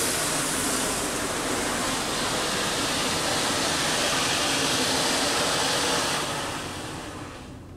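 A Mark VII soft wash rig sprays a slow rinse pass over a Texaco station in Spring, Texas, making a loud, steady hiss like rushing water. It holds for several seconds, then fades toward the end.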